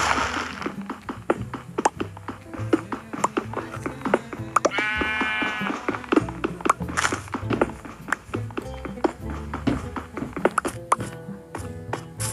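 Minecraft sheep give a short wavering bleat amid busy game sounds of tapping, footsteps and block-breaking thuds, with the bleat standing out briefly in the middle.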